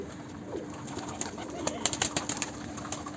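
Pigeons coo softly and repeatedly at close range, with a faint flutter of wings and some sharp bursts of activity toward the end over a steady background hum.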